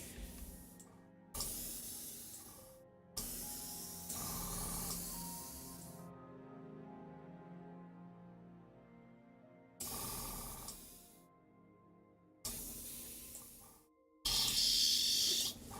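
A spray paint can sputters and hisses in several separate bursts as it runs out of paint, with a final sharp, harsher spurt at the end and quieter pauses between bursts.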